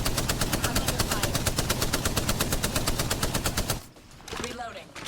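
Rapid automatic gunfire in Apex Legends rattles in an even, fast stream of close shots, then stops abruptly, leaving quieter game sounds and a brief spoken callout.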